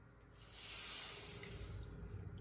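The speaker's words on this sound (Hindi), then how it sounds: "साथ ही हमने पानी डाल दिया।" Water pours steadily into a pan holding semolina, a close, broad splashing rush that swells after the first half second and stays loud to the end, with no voices.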